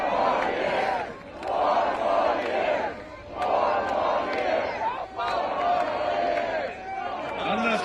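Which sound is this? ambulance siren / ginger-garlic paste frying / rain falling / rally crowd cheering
rally crowd cheering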